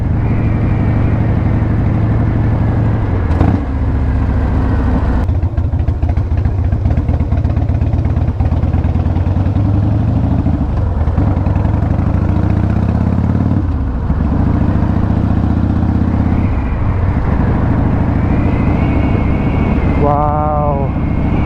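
A 21-year-old Harley-Davidson CVO Wide Glide rumbles steadily under its rider on a scenic road, its loud engine drone shifting slightly in pitch, with wind noise throughout.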